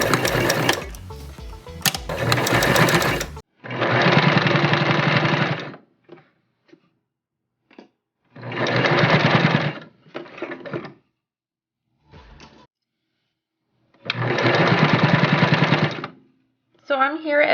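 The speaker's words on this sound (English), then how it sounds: "let's head over to the sewing machine" A sewing machine zigzag-stitches knit fabric in several loud bursts of steady whirring, separated by pauses and brief handling noises, with a bit of talk at the start.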